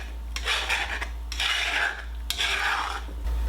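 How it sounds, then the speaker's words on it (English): A metal spatula scrapes stuck farm-fresh eggs from a cast iron skillet in three long, rasping strokes, loud and close over a steady low hum, with no talking. "a metal spatula. It is a lifesaver for a cast iron skillet."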